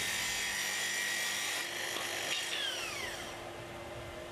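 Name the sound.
Makita SP6000 plunge saw making full depth cut on guide rail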